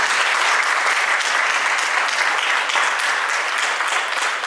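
Wedding guests at a church marriage celebration clapping together in loud, sustained applause that stays dense and even throughout, with no pauses.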